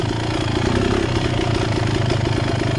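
Beta X-Trainer motorcycle engine running steadily at close range, a loud continuous mid-pitched drone with slight rhythmic pulsing as the clutch is held partly pulled in, no voices.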